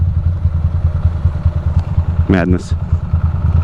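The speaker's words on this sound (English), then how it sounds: "My bike is idling so low, I'm like worried it's gonna freaking die." A Ducati motorcycle idles very low in holiday traffic near the Lincoln Tunnel, giving a close, steady pulsing rumble throughout, with one brief spoken word over it.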